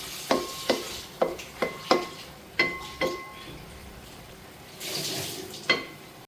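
A spatula stirs yam leaf stir fry (chena ela thoran) in a pan, giving about eight sharp, evenly spaced scrapes and clanks against the metal, then a softer sizzling shuffle and one final knock.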